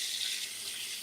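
Kitchen tap water running while a knife is rinsed, a brief steady hiss of flowing water, close and fairly soft, heard alone.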